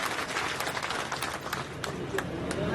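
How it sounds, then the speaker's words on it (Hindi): A crowd at a political gathering claps to welcome Suresh Pachauri, steady dense applause filling the whole stretch with a few sharper claps standing out, loud and continuous with no talk over it. "एक बार आप भी सुरेश भाई का तालियां बजा के स्वागत"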